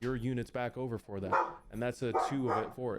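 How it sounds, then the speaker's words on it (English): A dog barks and yips in short bursts, close by, mixed in with someone talking over a Lord of the Rings strategy game. "That's my dog. He's trying to say hi to everyone."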